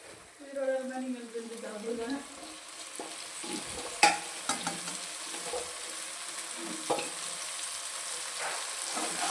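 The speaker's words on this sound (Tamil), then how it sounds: "அடுத்து வெண்டைக்காய் அள்ளி கொட்டுறா." Okra is tipped into a hot pan of oil and fries with a steady sizzle, broken by a few clattering stirs and scrapes; a voice hums or speaks briefly near the start.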